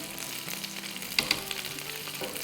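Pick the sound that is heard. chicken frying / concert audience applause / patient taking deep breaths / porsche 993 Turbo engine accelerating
chicken frying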